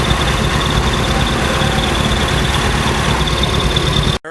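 A farm tractor engine runs steadily at close range during oat hay work, a loud continuous idling rumble with a faint high whine, cutting off abruptly at the very end.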